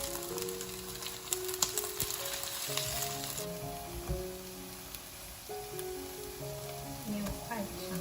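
Glutinous rice cakes fry in a flat-bottomed pan with a little oil over medium heat, giving a steady, close sizzle throughout, with occasional light scrapes and clinks of turning.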